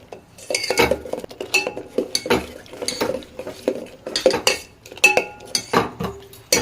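A spoon scrapes and clinks against a pan in quick, uneven strokes while a paal kadambu milk mixture is stirred, close and fairly loud, with no voices.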